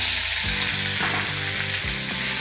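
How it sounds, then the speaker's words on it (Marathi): Finely chopped onion fries in oil left over from frying sandge for a Maharashtrian bhaji, giving a steady, close, loud sizzle with soft stirring scrapes throughout and no voices. "याच तेलामध्ये आता घालूयात बारीक चिरलेला कांदा"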